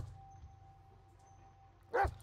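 Dog barking in the video game Blair Witch, one short bark near the end after quiet ambient hum.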